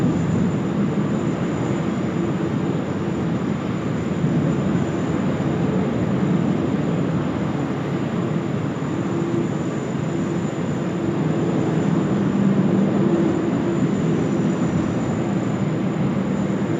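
Steady, loud roar of aircraft engines at Sydney Airport, a broad continuous rumble with no break, heard from a plane-spotting spot near the runways with no talk.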